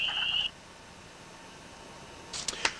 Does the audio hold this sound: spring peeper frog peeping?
yes